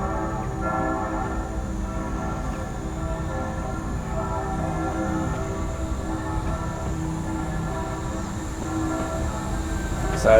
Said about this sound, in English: Just waiting for the train to come into view